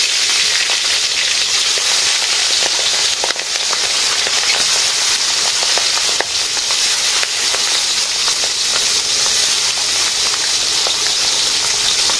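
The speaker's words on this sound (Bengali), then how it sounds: "মাছ ভাজি হয়ে গেছে।" Pabda fish frying in a pan in a village kitchen, a loud, steady sizzle with crackling pops running throughout, up close and with no talk over it.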